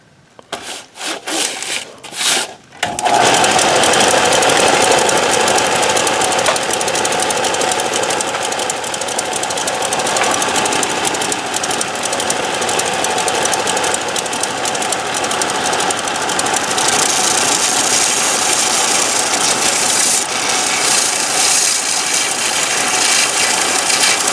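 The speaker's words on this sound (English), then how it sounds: "I'm going to try the belt sander first" A belt sander grinds against a wooden mop handle in a loud, steady, abrasive roar that runs on without a break, after a few short start-up bursts in the opening seconds.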